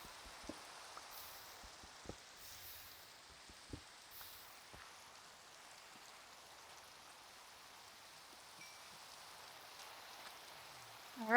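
Steady soft rain falls in a modded survival game, a faint even hiss broken by a few isolated drip-like taps.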